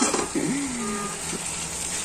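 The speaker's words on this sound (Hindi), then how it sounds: "ये थोड़ा भून के टमाटर डाल के बता दें, 5 मिनट भून के बता दें" Tomatoes sizzling and frying in hot oil in a home kitchen, a steady close hiss with a faint stirring scrape at the start and no talking.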